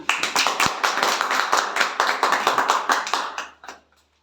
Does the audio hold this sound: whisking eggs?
no